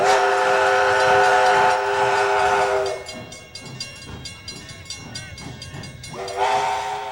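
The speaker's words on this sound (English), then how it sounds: "riding the tarantula train, pulled by an antique steam engine" An antique steam engine pulling the Tarantula train at the Fort Worth Stockyards sounds a loud, sustained chord whistle, then chugs with rhythmic hissing exhaust beats before the whistle blows again briefly near the end.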